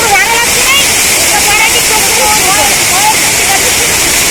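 Singa Samudram waterfall roars as a loud, unbroken rush of falling water close by, with faint higher chirping or whistles threaded through the steady wash.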